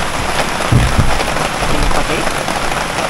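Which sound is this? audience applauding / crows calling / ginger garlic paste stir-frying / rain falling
rain falling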